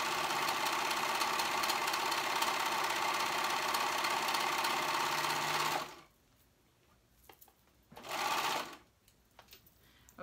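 A sewing machine stitching a sweater cuff runs in a steady, close mechanical whir for about six seconds, then stops, and a short second burst of stitching follows.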